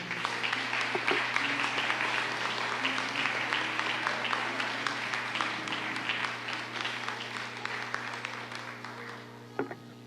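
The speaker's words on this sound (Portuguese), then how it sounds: "Você pode aplaudir o Senhor?" A church congregation at a Bible study service applauds the Lord, a sustained, fairly distant wash of clapping that continues for about ten seconds before tapering, with a steady low hum beneath.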